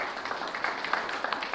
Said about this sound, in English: let's give a big applause to all the fighters